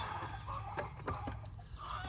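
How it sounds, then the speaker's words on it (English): Chickens cluck and squawk in the background of a yard, several short calls scattered over a steady low hum. "I have chickens."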